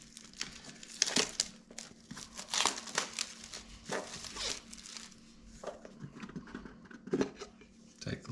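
Close crinkling and crackling of plastic packaging being pulled open around Lasfit LED headlight bulbs for a 2014 Silverado 1500, in irregular bursts of rustle and tearing, with no talking.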